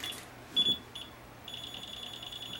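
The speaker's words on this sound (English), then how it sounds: "it should beep when I'm near the black wire" A FNIRSI DMC100 multimeter's non-contact voltage detector emits faint, quiet high beeps near a live black wire, a short chirp followed by a steadier repeating tone.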